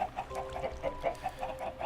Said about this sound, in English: I wanted to minimize the amount of noise coming from the chickens.